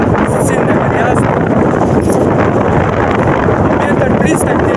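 Strong wind blows across a stormy, churning sea, a loud unbroken roar buffeting the microphone throughout, with a voice speaking over it.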